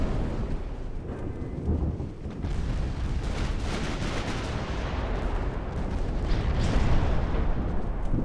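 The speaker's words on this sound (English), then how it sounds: "You should be very scared of my 11-inch guns." Heavy 11-inch naval guns firing in a WWII-era warship battle game, rolling deep booms that merge into a continuous thunderous rumble, growing louder toward the end.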